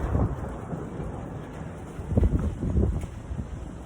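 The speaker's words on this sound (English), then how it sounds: "We're just having thunderstorms and stuff right now" Thunder rumbles low during a thunderstorm around a truck, with a rolling swell toward the end, mixed with rushing wind buffeting the microphone.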